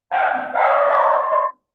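A dog gives one drawn-out, loud, close bark with a whining, howl-like tone, lasting over a second and heard alone.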